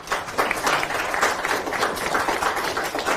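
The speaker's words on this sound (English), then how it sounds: "Give yourselves a round of applause" In a room at a city manager's listening session, attendees clap for themselves, a moderately loud burst of many hands with a slightly uneven, pulsing texture, unbroken by speech.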